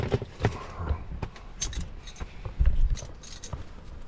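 A bunch of keys, including a Ford car key, jangles and clinks close by in repeated small shakes and rattles, with light handling sounds throughout.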